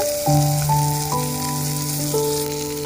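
Boiled peas and potatoes sizzle in a pan of hot oil with cumin, a steady close frying hiss carrying on under sustained, shifting musical tones.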